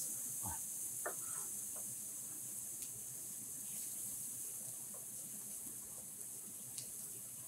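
Onions sauteing in butter in a hot pan, a quiet steady hiss and sizzle with a few faint clicks and small utensil knocks, close but soft, no talk.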